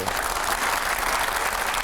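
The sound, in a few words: studio audience applause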